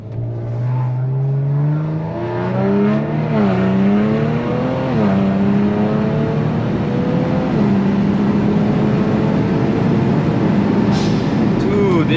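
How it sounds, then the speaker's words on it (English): A tuned Kia Stinger at wide open throttle roars loudly and continuously, its engine note climbing through rising sweeps with brief dips at gear changes, heard from inside the car while a voice talks over it. "Now time for a wide open throttle."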